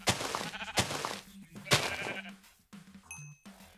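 Sheep bleat in the video game Minecraft, several loud, close bleats in a row with short gaps and no talk over them.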